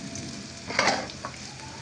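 Chopped onion, chili and spices frying in a pan for lentil and bottle gourd curry, a steady close sizzle with a brief scrape of stirring in the middle.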